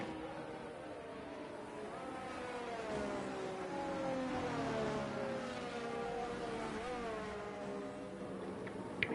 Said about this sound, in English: Hear the engines roaring